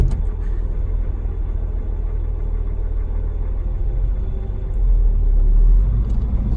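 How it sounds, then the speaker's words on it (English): A Graham automobile pulls away in first gear, its engine a steady low rumble that swells slightly near the end as it accelerates, with no talk over it. "Taking off in first gear, into second,"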